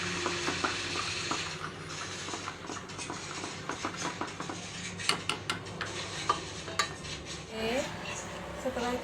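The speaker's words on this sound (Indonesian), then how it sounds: "Oke, setelah masukkan gula sedikit, aduk lagi" Sugar being stirred into warmed milk in a pot for Japanese cheesecake batter, with a steady series of light clinks and scrapes of a utensil against the pan, close by and moderately quiet, no talking.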